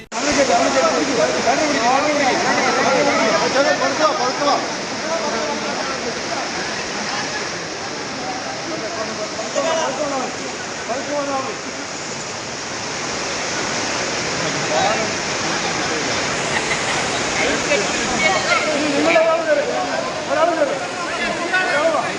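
The strong current of the Chittur river in Palakkad, Kerala, rushes steadily as a continuous broadband roar of water. A voice talks over it throughout.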